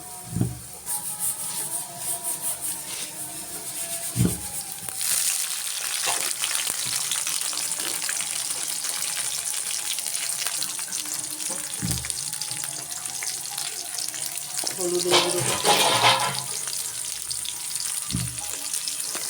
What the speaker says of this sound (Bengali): কড়ার মধ্যে তেল দিয়ে পেস্ট দিয়ে দিলাম এখন চিংড়ি মাছটি দিয়ে দিব